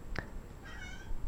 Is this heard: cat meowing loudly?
yes